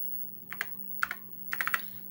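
Keys on a computer keyboard tapped in three short bursts of quick, close keystrokes while a command is typed, over a steady low electrical hum.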